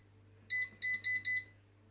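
An air fryer timer sounds four sharp electronic beeps in quick succession, loud and close, with a low steady hum from the appliance running underneath and no talking.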